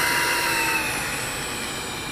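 A Freewing Stinger 64mm RC model jet's electric ducted fan runs at full throttle on takeoff in a crosswind, a loud, steady, airy roar with a high whine held throughout.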